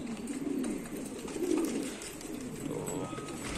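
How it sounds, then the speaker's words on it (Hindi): Soft, low cooing from a black pigeon rolls in several gentle phrases, close by, with faint rustling and a quiet background hum. "काला कबूतर है"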